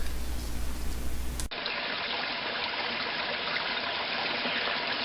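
A babbling brook flowing behind a hammock campsite at Gov. Knowles State Forest, a continuous rushing water sound, steady and fairly close, with no voices.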